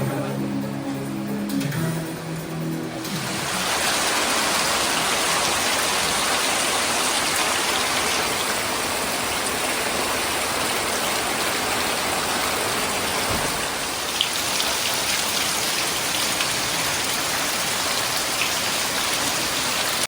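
Steady, dense rain pours down outdoors, a constant hiss of drops drumming on surfaces that continues unbroken throughout.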